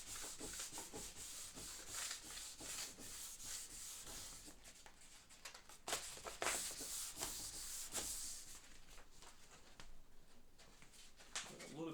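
A walnut burl wood surface being buffed by hand with a liquid restoring finish, giving a quiet, continuous rubbing and swishing close by, in repeated strokes over the full length.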